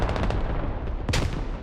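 A grenade exploding in the military shooter Squad, a loud close blast preceded by a quick burst of gunfire, with the boom ringing out over dense battle noise.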